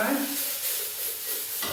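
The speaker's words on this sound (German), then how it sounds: "die Topfenknödel kommen jetzt hier mit in die Pfanne rein." Austrian curd dumplings hiss and sizzle in a frying pan with breadcrumbs, a steady bright frying crackle throughout that is close and fairly loud, with no talking over it.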